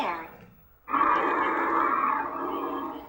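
A recorded bear growling, played back as an animal sound, a low sustained roar that starts abruptly after a brief lead-in and holds loud and steady to the end.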